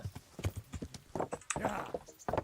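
Horse hooves clip-clopping in the medieval game Kingdom Come: Deliverance, a run of close, uneven hoof strikes with a voice speaking over part of it.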